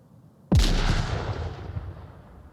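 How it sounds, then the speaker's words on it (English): A frag grenade goes off in the virtual reality shooter Onward during a competitive match: one sharp, loud blast after a short quiet stretch, followed by a long rumbling decay that fades over about two seconds. "That was a very well thrown frag grenade"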